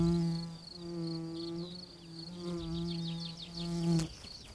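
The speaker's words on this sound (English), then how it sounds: "Another flower and another kind of bee." Bees buzzing around red poppies outdoors in spring, a steady close drone that rises and falls as they move, with faint chirping in the background and a brief click near the end.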